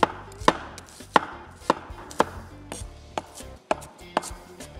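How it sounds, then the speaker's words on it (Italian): Shallot being finely chopped with a knife on a cutting board, a close, crisp series of about ten evenly spaced chops with a clear rhythm, no talk. "Andiamo a tagliare finemente lo scalogno."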